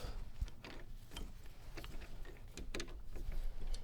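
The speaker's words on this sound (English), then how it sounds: "I'll just take a M12 bolt, put in the chuck here" An M12 bolt is set and tightened in a metal lathe chuck, giving irregular close metallic clicks, ratcheting ticks and light clunks over a low background hum.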